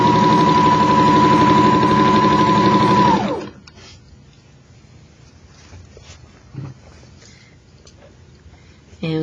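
A sewing machine stitches a waistline seam, a loud, steady mechanical whir with a constant tone for about three seconds that then stops abruptly, leaving a quiet room with a few faint handling knocks and a short bump at the end.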